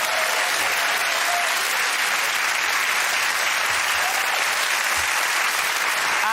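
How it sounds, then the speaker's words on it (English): A studio audience at a comedy panel show applauds loudly and continuously, a dense steady wash of clapping throughout. "give that round of applause to Ed, Sarah and Andy"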